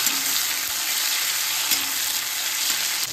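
Garlic and tomato fry in a pan of hot oil, a loud, continuous close-up sizzle with an even, unbroken hiss and faint stirring scrapes, with no talk over it.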